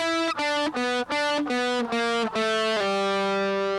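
A heavily distorted electric guitar plays a riff as a sequence of choppy, separated notes that settle into a sustained final note, loud and close with no talking.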